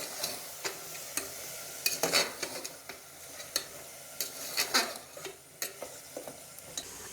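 Garlic ginger paste being stirred and fried in a pot for beef biryani, with a steady sizzle and repeated scraping clinks of a spoon against the pot, close up and without voices.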